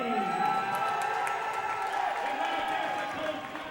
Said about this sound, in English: It's a lively crowd here, packed house in the Reggie O'Brien Gymnasium for this game this evening on senior night